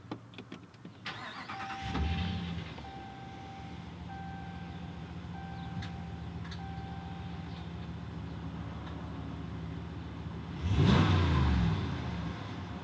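A 2019 RAM 1500 Laramie pickup is started by push button, preceded by faint chimes and cabin tones, then a short engine crank and catch settling into a steady, muffled idle.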